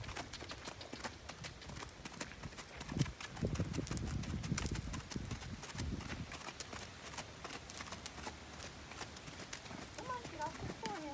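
Hoofbeats of a young mare named Cocoa Bean during her first gaiting lesson, a steady clip-clop rhythm running the whole time, with a rider's voice and background outdoor noise over it.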